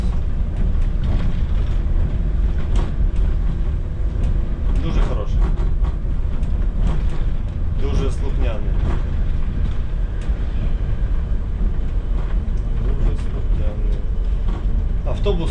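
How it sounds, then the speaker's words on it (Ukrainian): An Electron bus with an automatic gearbox accelerates, heard from the driver's cab as a steady low engine drone with cabin rattles and intermittent clunks. "розганяється автобус."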